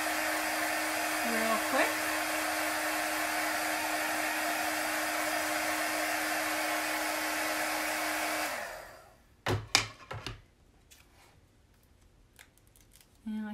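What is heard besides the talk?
hair dryer blow drying chalk paste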